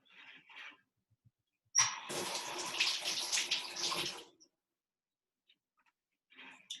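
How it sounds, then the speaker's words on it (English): A vegetable is rinsed under a running tap, giving about two seconds of splashing water. Brief quiet handling sounds come before and after it. "So I'm gonna rinse this off real quick, just because when cutting it, that dirt just kind of stayed on"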